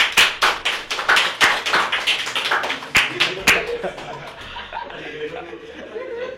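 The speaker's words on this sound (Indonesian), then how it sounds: "Tepuk tangan." A small group at a talk on the coronavirus claps in a brief series of sharp, distinct hand claps with some chuckling, then the clapping fades into quiet murmuring and light laughter.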